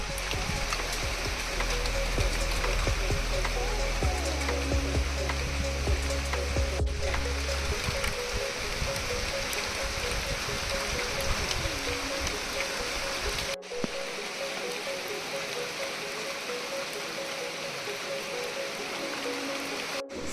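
Steady rain falls during a trip in Wayanad, a dense, continuous patter of drops on surfaces with a faint trickle of running water beneath, holding evenly throughout.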